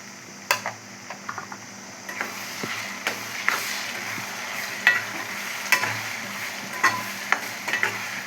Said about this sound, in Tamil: கருவேப்பிலை சேர்த்துக்கிடலாம்.